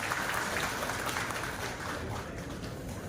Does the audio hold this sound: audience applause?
yes